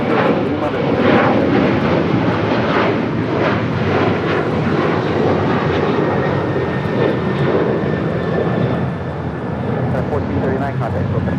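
Airliners at Los Angeles International Airport make a loud, continuous engine roar that holds steady for the whole stretch, with a voice talking over it throughout.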